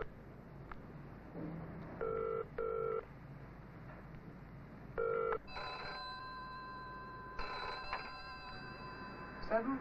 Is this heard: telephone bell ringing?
yes